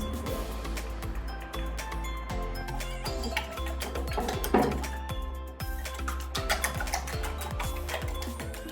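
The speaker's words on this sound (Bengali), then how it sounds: "আমার ডিমটা বিট করা হয়ে গেছে" Eggs whisked with salt and chilli powder in a bowl, a steady run of quick metallic clinks and taps against the bowl throughout, close and moderately loud with kitchen clatter.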